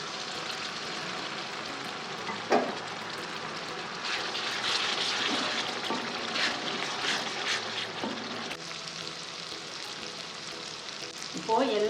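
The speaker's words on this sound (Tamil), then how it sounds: "இப்போ இதில் கொஞ்சமாக தண்ணி ஊற்றிக்கலாம்." Water poured into a hot pan of frying egg rice makes a loud, continuous close sizzle and bubbling hiss, with occasional clatter of stirring throughout.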